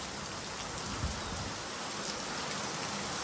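Steady rain falls without a break, a dense even patter close by with no voices.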